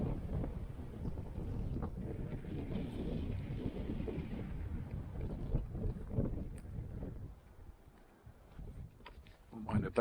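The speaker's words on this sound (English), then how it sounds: "Super windy though today" Strong wind buffets the microphone near Mount Krujë, Albania, in a steady roar that eases toward the end, with faint talking underneath.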